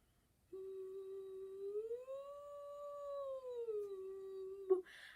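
A muffled voice sung through a straw holds a note, slides up to a higher pitch, sustains it, then glides back down before a brief click at the end.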